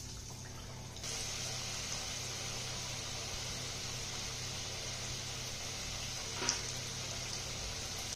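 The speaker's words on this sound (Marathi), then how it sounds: "आता या ठिकाणी आपल्याला ह्या आपल्या भाकरवड्या याच्यामध्ये तळून घ्यायच्या आहेत." Bhakarwadi, flaxseed snack rolls, fry in hot oil on medium gas with a steady, even sizzling hiss that starts a second in and holds unbroken, with one brief brighter crackle near the end.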